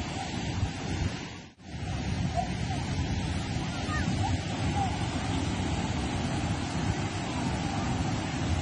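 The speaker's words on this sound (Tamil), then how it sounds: "தண்ணி பயங்கரமாக ஆர்வரிச்சு கொட்டுதுங்க." Kodiveri Waterfalls pours heavily, making a steady, dense roar of rushing water that fills the whole stretch. It breaks once in a brief dip early on, with no voices.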